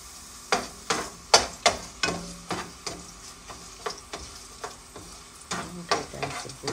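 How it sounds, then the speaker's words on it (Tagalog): Garlic sautés in a pan for squid adobo. A spatula scrapes and stirs in a steady rhythm of sharp strokes over a soft sizzle, close and moderately quiet, with no talking. "lagyan natin ang garlic."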